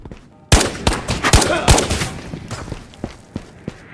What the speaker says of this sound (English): Right now I'm firing single shots because I'm trying to conserve ammo